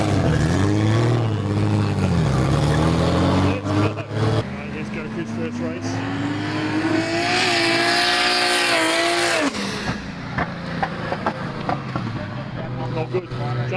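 A GTR race car launches and races, its engine revving high and climbing through gears with tire squeal, loud and close, while voices talk excitedly over it.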